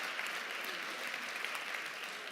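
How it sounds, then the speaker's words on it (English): An audience at a startup pitch event applauds steadily, a dense wash of clapping hands at even volume throughout with no voices standing out. "let's have a big round of applause for all of our startups"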